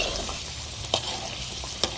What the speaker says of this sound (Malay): Tunggu cili itu sehingga masak dan pecah minyak.